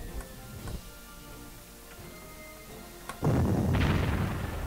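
Artillery fires in the WWII strategy game Allied Corps during the siege of Bardia, a few distant thumps at first, then a heavy, sustained roar of shelling breaking out near the end.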